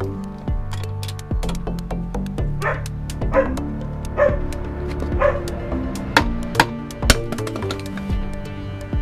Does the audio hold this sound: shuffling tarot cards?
no